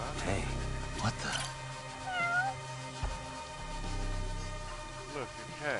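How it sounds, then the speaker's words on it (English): Several meows from a cat in the video game Judgment rise over game music and background sound, a short gliding meow standing out near the middle, with people talking around it. "Look, a cat."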